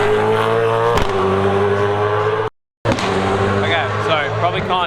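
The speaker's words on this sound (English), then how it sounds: "supercars are currently roaming around the track" Supercars race around the Adelaide street circuit, loud engines roaring and revving steadily close by, with a brief cut to silence midway before the engine roar resumes; a faint voice may sit underneath.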